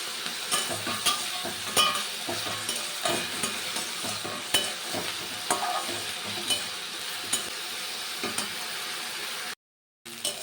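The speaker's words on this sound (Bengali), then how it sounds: "পেঁয়াজ লঙ্কাটা দেখতেই পাচ্ছ ফ্রাই করা হয়ে গেছে" Onion and chilli frying in a pan for crispy chilli pakora, a steady sizzle broken by repeated stirring scrapes, fairly close and moderate in level, no voices.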